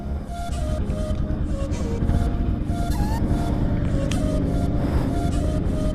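A car is driven along with a steady, full rumble of engine and road noise that holds unbroken from start to finish, with faint higher whooshes passing over it.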